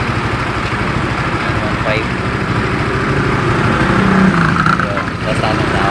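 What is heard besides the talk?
Suzuki Rider 150 FI motorcycle engine idling at 1500 RPM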